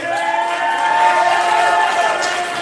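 An audience at a poetry slam bout applauds a poet, a dense sustained wash of clapping and crowd noise heard up close.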